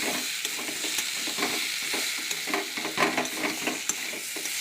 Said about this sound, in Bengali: দিয়ে নাড়াচাড়া করে এবার দেখো সবজিটা দিয়ে দিলাম